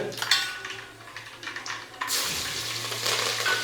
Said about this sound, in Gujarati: પિંકીબેનનો વઘાર